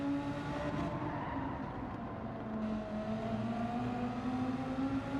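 A Vauxhall Calibra's engine in Gran Turismo 7 drones steadily at a near-constant pitch, shifting slightly midway, with a continuous whirring tone and no talk.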